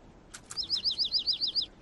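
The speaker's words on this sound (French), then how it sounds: "Caillou était surpris et content d'entendre le petit oiseau gazouiller." A small cartoon bird gives a quick run of high, bright chirps, about ten evenly spaced tweets in under two seconds, clear and alone over a quiet background.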